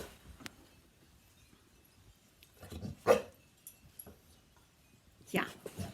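A dog gives a few short, sharp barks at scattered moments, moderately near but not loud, separated by quiet stretches.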